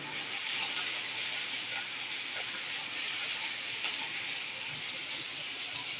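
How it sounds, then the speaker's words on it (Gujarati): Steady, loud sizzling hiss of chopped onion frying in hot oil for a tempering, continuous throughout with no voices. "જોવો તો કેટલો મોટો ભડકોનો વઘાર થાય છે ડુંગળીનો"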